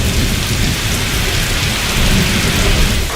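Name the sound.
heavy rain with thunder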